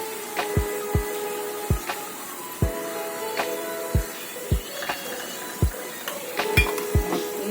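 A spoon stirs green amaranth curry with grated coconut and lentil dumplings in a pan, a run of about a dozen sharp knocks and scrapes against the metal at an uneven rhythm over a faint background hiss, with no talk.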